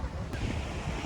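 Surf washes steadily onto Barrio Barretto beach in the evening, a continuous close roar of breaking waves mixed with gusts of wind buffeting the microphone.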